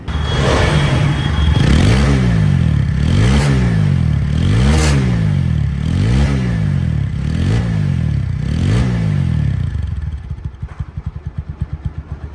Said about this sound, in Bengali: বাইকটি সাউন্ড কোয়ালিটি কিন্তু একদম শোরুম কন্ডিশনে আপনার আপনাদেরকে আমি শোনাইলাম